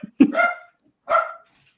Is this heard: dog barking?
yes